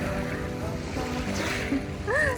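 Ocean shore on a calm afternoon, with steady broadband wash of waves and wind rumbling against the microphone throughout, a few faint bird-like chirps near the end.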